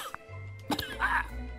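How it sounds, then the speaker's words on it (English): A game character in Manual Samuel coughs after breathing in with a mouthful of water, giving a short sequence of coughing and throat-clearing bursts over low background game sound. "He has to cough."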